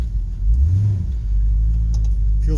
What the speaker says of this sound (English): Step on the gas.